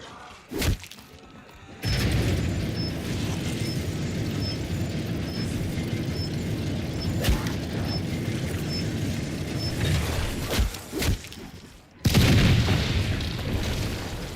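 A cannon fires in Black Ops Zombies, sending several heavy booms and thuds spread across the span, with a loud blast near the end over a low rumbling background.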